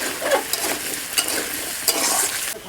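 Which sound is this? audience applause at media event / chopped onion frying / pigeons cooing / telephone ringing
chopped onion frying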